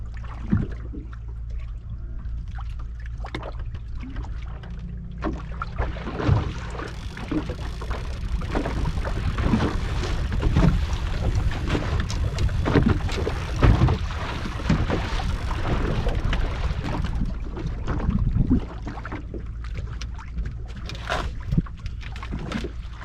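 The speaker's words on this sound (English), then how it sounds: "We're gonna take the trolling motor and carry us back up there to this thing." A boat's trolling motor runs at a steady drone under wind buffeting the microphone. A few knocks and rattles sound on the hull as the boat moves along the water at a campout on Lake Santee.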